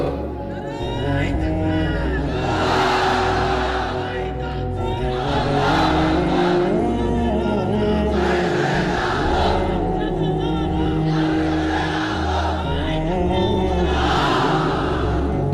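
A large crowd at an Islamic sermon roars takbir in unison, the massed voices loud and sustained, swelling in repeated waves throughout.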